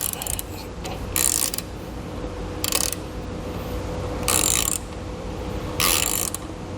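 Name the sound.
ratchet tightening lug nuts on spare tire mount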